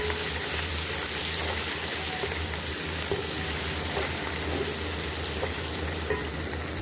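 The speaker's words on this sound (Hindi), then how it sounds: "अब यहाँ पर हमने 1 चम्मच लहसुन, अदरक, हरी मिर्ची और साबुत धनिया कूट लिया था, वो इसमें हमने ऐड कर लिया है। अब इसको भी हमें फ्राई कर लेना है।" Crushed garlic, ginger, green chili and whole coriander seeds fry with onion in hot oil for kadhi pakora, a steady, close sizzle with a faint bubbling hiss continuing throughout.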